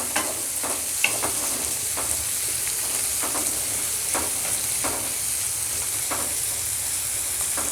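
Ingredients fry in a hot pan for a non-veg boti curry, a continuous bright sizzle broken by regular scraping stirs of a spoon about every half second to second.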